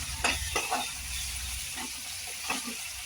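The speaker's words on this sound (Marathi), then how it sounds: "एक चम्मच सॉस आता मिक्स करून घेऊ" Ketchup, red chili sauce and vinegar are stirred in a frying pan for street-style gobi fried rice. A faint, steady sizzle runs under a few soft scrapes and taps of the spoon, with no talk.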